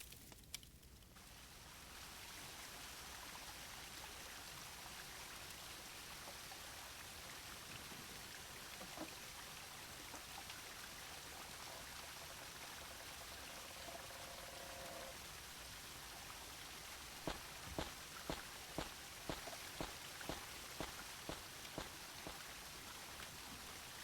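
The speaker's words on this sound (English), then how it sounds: "There's water spluttering out." Water spluttering out of an overflow in the adventure game Ankh, a steady faint watery hiss with a short burst of sharp regular drips or clicks in the second half.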